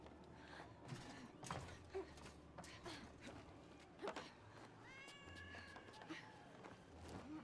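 A cat meows several times in the video game Split Fiction, set against quiet ambient game sounds and soft footsteps.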